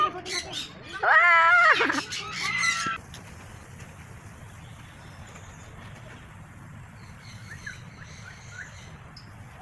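A loud, squawking bird call with a warbling, clucking quality bursts out for about two seconds near the start, followed by faint distant chirps over low background noise; a voice briefly exclaims.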